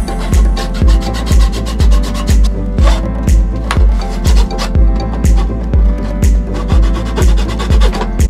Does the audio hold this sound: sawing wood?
yes